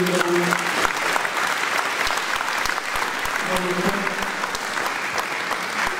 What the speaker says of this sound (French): on peut vraiment t'applaudir pour tout le travail que tu as fait